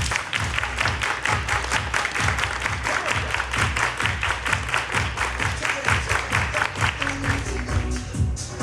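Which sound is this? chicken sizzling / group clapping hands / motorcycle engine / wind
group clapping hands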